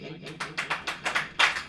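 A church congregation claps together at a Hindi-language service, a loose, rhythmic run of sharp broadband hand claps that grows denser and louder toward the end, with no talking over it.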